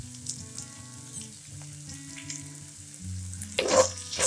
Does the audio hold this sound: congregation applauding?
no